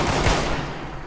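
Rifle fire from a .308 in the video game Fallout 76: a dense, loud burst of overlapping shots with a sharp crack near the start, sustained for about a second.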